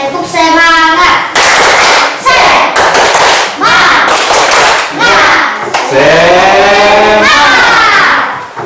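A school class claps out a rhythmic 'tepuk semangat' routine during a practice lesson, loud bursts of claps in a patterned beat, with voices chanting along over the clapping.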